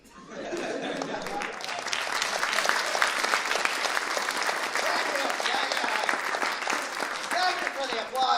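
An audience at a comedy variety show applauding after a comedy bit, with a dense, sustained burst of clapping that swells quickly and holds steady throughout, with faint chuckles mixed in.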